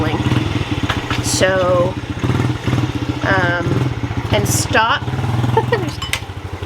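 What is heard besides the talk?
motorcycle being started and idling nearby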